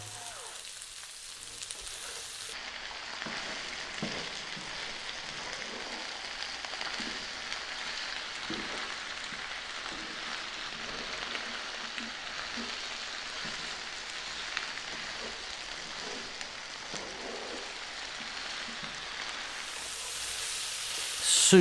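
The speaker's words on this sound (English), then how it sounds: "stir frying it around in the pan there" A steady hiss of vegetables stir frying, sizzling and crackling in a hot pan, continuous and moderately quiet, with no one talking.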